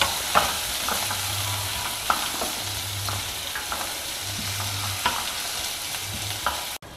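Chopped onion and garlic frying in oil for a South Indian gongura dal tempering, a loud continuous sizzle broken by regular spatula stirs and scrapes against the pan, close up with no talk.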